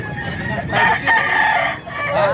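A bullstag rooster crows loudly and close by, its drawn-out call rising and falling over faint background noise.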